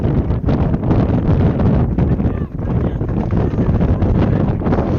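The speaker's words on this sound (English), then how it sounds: "Wind is picking up here." Strong wind buffets the microphone at an outdoor sports game, a loud, continuous rumbling roar that barely lets up for the whole stretch.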